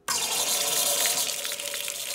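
Diet Coke pours from a home soda fountain system, a steady close hiss of carbonated liquid streaming for about two seconds after a sudden start.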